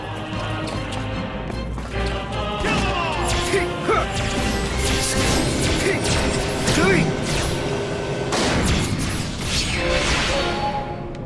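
A barrier is smashed apart in a video game with repeated heavy crashes and whacks over a busy game soundscape, loud and continuous, while people talk throughout.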